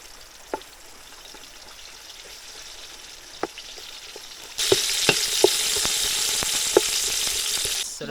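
Chopped onion dropped into a hot pan outdoors in a rainforest, bursting into a loud, steady sizzle partway through after quieter crackling, with scattered pops and ticks and no voices.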